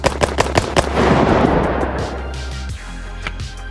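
A Glock G18 pistol fires in a video game: a quick, evenly spaced burst of about five loud, close shots, followed by a few more sharp single shots after a pause.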